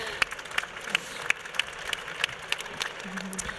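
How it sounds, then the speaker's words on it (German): Audience applause closing a panel discussion at a smart city conference, a thin scatter of claps with distinct sharp hand strikes standing out over a soft room background, fairly modest in size. "schon mal einen großen Applaus"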